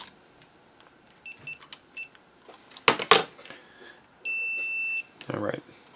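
A multimeter in continuity mode gives a steady, close electronic beep of about a second while probes touch a PAL-to-NTSC conversion board, preceded by clicks and handling noise and followed by a short bump.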